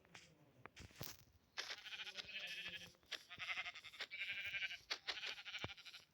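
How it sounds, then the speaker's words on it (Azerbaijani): A sheep in the Minecraft video game bleats in a series of nasal, wavering calls that come one after another, loud and close, with short gaps between them. "Bir tane de bu ağ qoyunu öldürüm."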